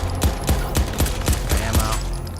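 Enemy gunfire in Crackdown 3 rings out as six evenly spaced heavy shots, each a sharp loud crack with a low thump, firing about every half second over a steady background hum.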